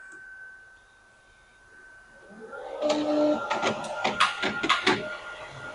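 A Ricoh Ri 4000 direct-to-garment printer starts up and prints enhancer onto jeans nearby, whirring mechanically with a series of rhythmic clicks and clunks as the print head moves, under a faint steady electronic hum.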